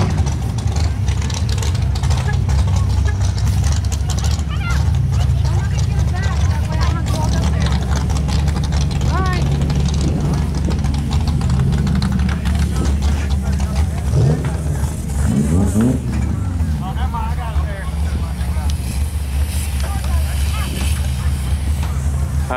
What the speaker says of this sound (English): There's still cars pulling in right now as we speak.